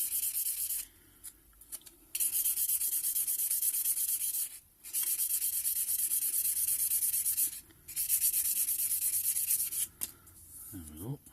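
A Norfolk reed float body being rubbed down by hand, giving a steady hissing abrasive rasp in several long close strokes with brief pauses between them.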